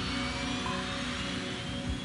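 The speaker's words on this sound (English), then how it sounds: "Aero Peru flight 603 prepares for takeoff for Santiago, Chile" A four-year-old Boeing 757 jet prepares for takeoff, giving a steady, loud engine whine and roar with a continuous broadband rush that holds level throughout, with no voices.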